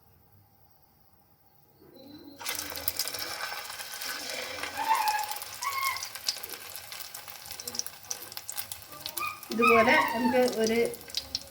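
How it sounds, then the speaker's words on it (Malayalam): Egg-dipped cutlets drop into hot coconut oil and start to fry, a bubbling sizzle that begins suddenly and grows louder near the end, with someone speaking over it. "എണ്ണ ചൂടായിട്ടുണ്ട്. നമ്മളിതിലേക്ക് മുക്കി ഇട്ട് കൊടുക്കുകയാണ് എണ്ണയിലേക്ക്."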